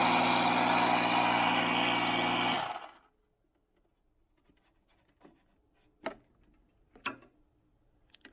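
An old 1970s ride-on lawn mower engine runs loud and rough for a few seconds, then abruptly cuts out, leaving near silence broken by a few faint clicks and taps.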